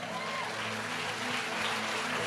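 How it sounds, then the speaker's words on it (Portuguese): A church audience gives a steady, even round of applause that fills the whole moment, a dense wash of many hands clapping at once. "Palmas pro Fê"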